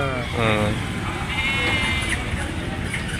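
Sheep bleating at a busy sheep and goat market in Kanigiri, with several wavering bleats close by over a steady crowd murmur and nearby voices talking.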